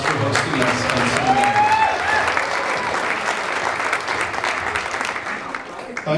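An audience at a party in a winery claps steadily for the hosts, a dense sustained applause with a few voices and cheers mixed in.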